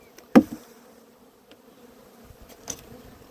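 Honey bees hum around a homestead beehive, a low steady drone punctuated by a sharp close knock and a few faint clicks, with no talking.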